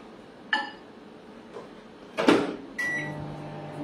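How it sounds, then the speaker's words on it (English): Microwave oven heating a weighed skincare base for facial bombs in a home kitchen: a click at the start, a few clunks and a door-like thud midway, then a steady low hum with a tonal whine as the oven runs. "I am going to heat it in the microwave to go ahead and melt the base"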